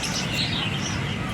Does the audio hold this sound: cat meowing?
no